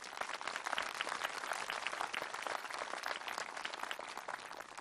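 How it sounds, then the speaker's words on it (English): A commencement audience at Peninsula College in Port Angeles, Washington, applauds in a continuous, softish wash of many hands clapping that carries on evenly without any voices. "Let's give them all a round of applause."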